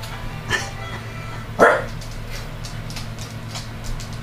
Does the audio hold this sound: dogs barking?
yes